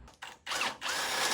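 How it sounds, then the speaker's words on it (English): A step bit in a power drill bores a hole to fit a rivet nut while installing an ARB twin compressor: loud whining bursts, a brief start-stop, then steady cutting up close. "I use my step bit, and I drilled it to where this just fits in the hole"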